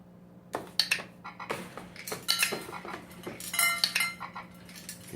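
A dog's wobbler toy rocks back and forth, setting off a tilt-sensor smart clicker several times in a row, giving a scattered run of sharp clicks and light clinks at close range.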